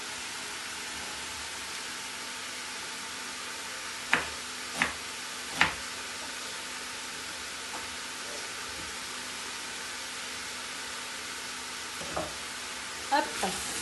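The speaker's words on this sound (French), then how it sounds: "je laisse mijoter tout ça pour que tout se mélange bien" Vegetable soup simmers in a pot, a steady soft bubbling hiss running throughout, broken by a few brief sharp clicks and pops near the middle and end.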